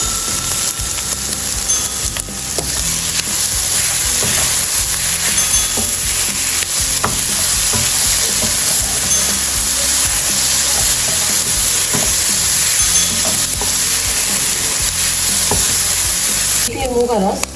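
Goat liver frying on a hot tawa after salt is added, a loud continuous sizzle under repeated scraping stirs of a spatula, with no talking.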